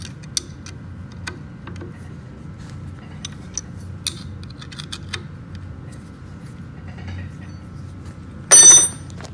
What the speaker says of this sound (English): So I just have to slide this one out of the way. And then retighten it.